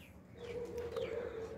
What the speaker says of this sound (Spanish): pero acá están todas las gallinas